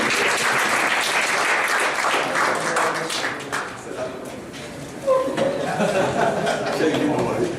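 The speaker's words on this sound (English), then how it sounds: "a round of applause" An audience at an academic panel discussion on Levinas and aesthetics gives a round of applause, loud and close, with scattered chuckles; the clapping dips briefly midway, then swells again before tapering.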